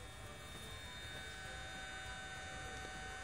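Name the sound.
battery water pump running at full power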